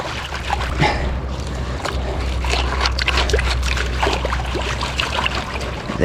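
Water sloshes and splashes in a gold pan during garnet panning in British Columbia, a steady wet churning with scattered splashes and low rumble throughout, no talking.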